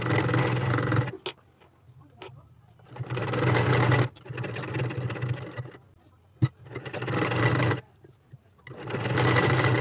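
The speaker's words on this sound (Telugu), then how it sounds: "దీని చుట్టూ ఒక కుట్టు వేసుకోవాలి." A sewing machine stitches around the lining of a boat neck blouse to make invisible piping, running in long loud humming bursts broken by short pauses, close by, with no talking.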